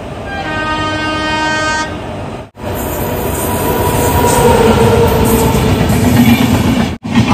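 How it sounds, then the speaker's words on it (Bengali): An express train sounds a long horn and thunders through Gurpa station with loud, sustained rumbling and rattling of wheels and carriages, close by and dominating throughout. "একটা দ্রুতগামী ট্রেন ঢুকছে।"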